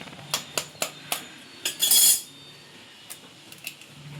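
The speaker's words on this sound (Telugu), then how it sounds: "సో ఇప్పుడు మనము ఎగ్ బీట్ ప్రాసెస్ అనేది స్టార్ట్ చేద్దాం" Egg being beaten with masala in a bowl, a utensil clinking against the bowl in several quick separate taps followed by a brief harsher scrape, then a few scattered lighter clinks, close and clear.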